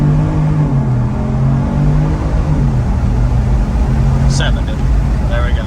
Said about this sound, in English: So I'll pull out and do 20, and then I'll punch it to like 70